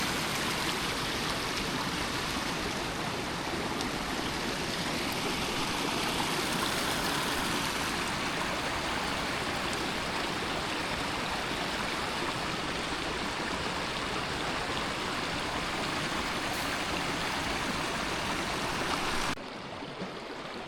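A stream runs steadily close by outdoors in misty weather, its water rushing and gurgling as a continuous broadband wash with no voices, then dropping sharply in level near the end.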